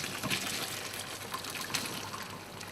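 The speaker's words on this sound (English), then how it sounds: "And I'm going to strain it." Pea and prosciutto infusion poured through a strainer, a steady close wash of liquid splashing and trickling with no talk over it.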